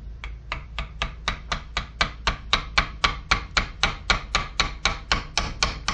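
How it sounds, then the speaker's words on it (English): Greasy rag strips are forced into a bearing hole with a fast, even series of roughly twenty sharp taps, close and steady at a brisk rhythm without any talk. "Now we take our little strips, jam them in the hole."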